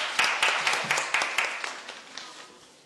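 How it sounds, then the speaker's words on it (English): Applause at a cultural heritage workshop felicitation, a modest burst of clapping with a few distinct sharp claps that gradually thins and fades away over a few seconds. "Yes, can we please give a round of applause?"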